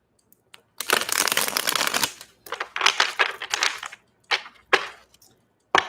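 Tarot cards shuffled by hand in bursts of riffling, rapid papery flutters with short pauses and soft taps between, close and fairly loud with no talking.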